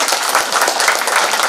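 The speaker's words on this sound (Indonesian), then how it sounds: "Tepuk tangan." A seminar audience in a Surabaya hotel bursts into applause, a short, loud, close burst of many hands clapping in quick uneven bursts.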